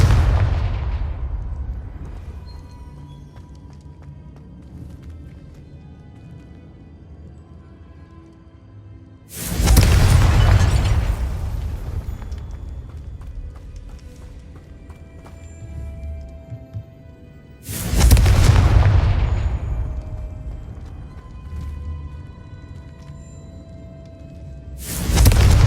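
Confringo spell explosions from the video game Hogwarts Legacy boom out three times at long, even intervals, each loud blast fading into a long rumbling tail, with no talking.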